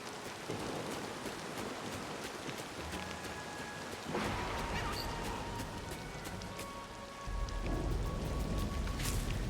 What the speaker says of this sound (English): I'm a fan of the rain as well.